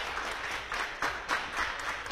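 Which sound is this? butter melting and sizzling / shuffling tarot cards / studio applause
studio applause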